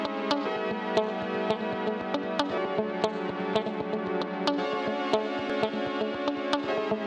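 A sustained synth pad is sidechain-compressed with a rhythm guitar as the key, so its level pumps and breathes in time while sharp percussive ticks cut through steadily in the mix.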